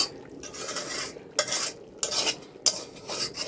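Chicken biryani meat being stirred in a pot over a clay stove, with three scraping sweeps of a metal spoon against the pot over soft background noise.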